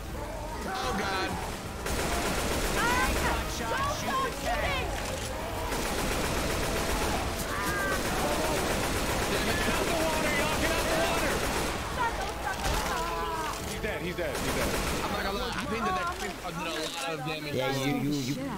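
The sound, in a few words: gunfire in Left 4 Dead 2 video game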